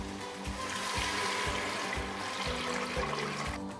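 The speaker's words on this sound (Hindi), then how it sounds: "अब इसमें 1 लीटर पानी शामिल कर दूंगी।" About 1 litre of water pours steadily into a cooking pot while making bong ka salan, a continuous splashing rush, close and fairly loud, over a faint rhythmic thumping underneath.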